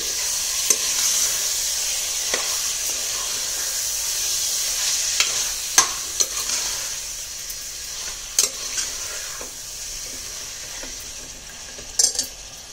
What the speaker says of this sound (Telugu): ఇప్పుడు దీంట్లో మనం చికెన్ వేసుకుందాం. వేసుకొని బాగా కలుపుకొని